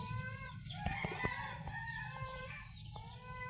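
Mixed Rhode Island chickens clucking with a rooster crowing in the background, several overlapping calls at moderate distance with no talking.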